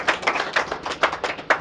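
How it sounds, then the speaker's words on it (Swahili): A church congregation claps during a worship service, a run of quick rhythmic handclaps in loose unison, fairly close and lively, with no voices over it. "Shangilie Bwana Yesu kwa makofi mengi."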